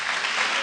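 A church congregation applauds in praise of the Lord, a brief dense burst of clapping from many hands, steady and close.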